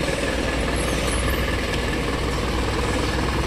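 A Hino Poncho bus with a J05C engine idling with a steady, close diesel rumble and a faint hiss on top, running alone.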